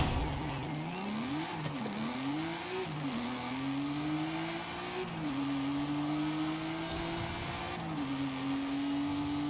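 A racing car engine in Forza Horizon 5 holds a loud, steady drone that climbs through the gears with brief dips at each shift, run flat out through corners with no talk.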